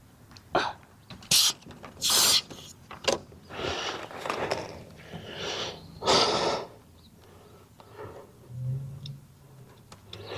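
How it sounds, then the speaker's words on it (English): A small hand pump bought online, used in a home shed to inflate a tyre: a series of short, close hissing bursts of uneven length, with faint clicks and handling noises in the gaps. "That's a good little pump, that."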